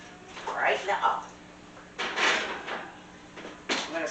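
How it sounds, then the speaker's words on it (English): A cheesecake goes into an oven preheated to 350 degrees in a home kitchen: a few clattering bursts of oven door and rack handling, the loudest a sharp knock near the end, with quiet room tone between. "I'm just going to put it right in the oven."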